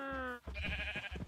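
Sheep in the New World video game giving a clear bleat up close, followed by a short second grunting bleat with faint background game sounds.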